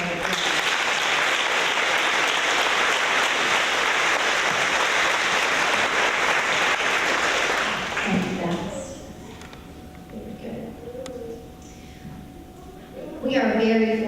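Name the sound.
audience applause for award winners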